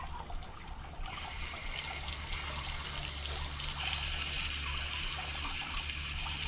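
Steady rushing water pours continuously out of a pipe with no air left in it, a constant trickling hiss with a low hum underneath, close by and fairly loud throughout.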